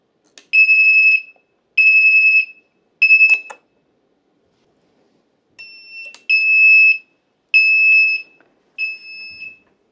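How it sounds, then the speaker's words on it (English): An IM-120 input module buzzer sounds a series of loud, high, steady electronic beeps, three long tones, a pause, then several more of varying length, clear and alone with no talk. "this buzzer will alarm"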